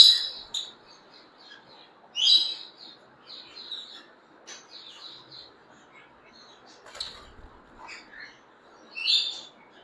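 A budgerigar breeder pair chirping close by in short bright bursts and scattered twittering notes, separated by quiet gaps, with no voices.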